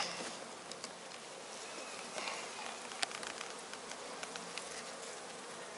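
Dense, steady buzzing of many agitated honeybees close by at an opened hive, a continuous droning swarm with faint rustling and small knocks mixed in.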